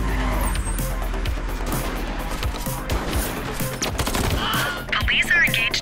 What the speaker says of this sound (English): Police are engaged in a dramatic shootout.